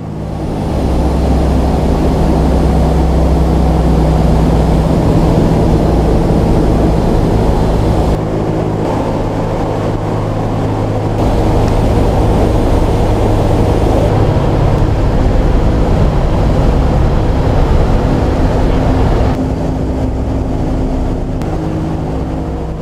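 The engines of a B-17 bomber, the Yankee Lady, drone loudly and continuously in flight, a dense steady roar heard from inside with slight shifts in tone over time.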